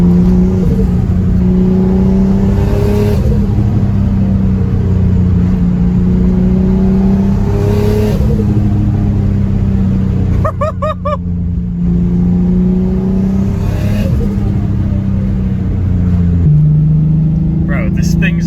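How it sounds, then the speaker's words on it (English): A turbocharged Nissan 350Z with a custom exhaust pulls hard under throttle, giving a loud, sustained engine drone with rising sweeps and a burst of turbo flutter midway, heard from inside the car. "I like ease into the throttle and I hear so much turbo surge"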